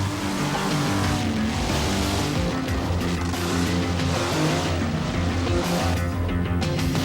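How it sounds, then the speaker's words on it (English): Roaring heavy engines rev and drone continuously, loud and close, with rising and falling pitch as big vehicles race. "Here the trucks pair off to drag race."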